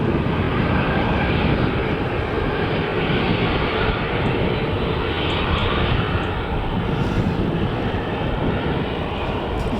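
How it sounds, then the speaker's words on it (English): Loud, continuous broadband roar of jet aircraft at Manchester Airport, where an EasyJet Airbus A320 is bound for Madrid. The roar holds steady throughout with no talking. "over on the other side then we have got an EasyJet which is going to Madrid. It's an Airbus A320"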